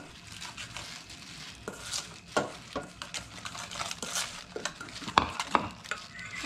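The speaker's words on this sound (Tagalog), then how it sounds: "Haluin natin." Garlic and green onions stirred in a pan, with irregular scraping and clinking of a utensil against the pan over a faint frying hiss, close and fairly quiet.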